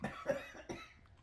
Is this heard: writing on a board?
no